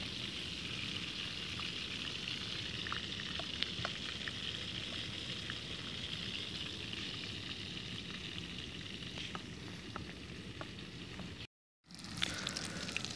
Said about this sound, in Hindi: उसी कढ़ाई में तो सबसे पहले हम एक चकोर उठाएंगे और उसको घी में डाल देंगे